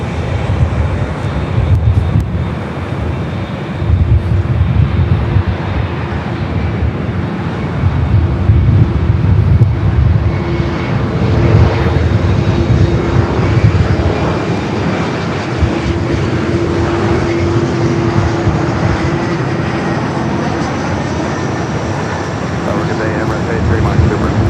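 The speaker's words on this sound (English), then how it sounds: "Turkish, the Dreamliner heading back to Istanbul up next for takeoff." Turkish Airlines Boeing Dreamliner bound for Istanbul taking off at LAX, a steady broadband jet roar with a faint whine, heard under wind buffeting and someone talking throughout.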